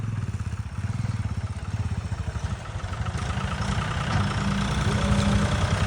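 A motorcycle engine with a fault, idling nearby with a steady, rapid low putter that gradually swells louder.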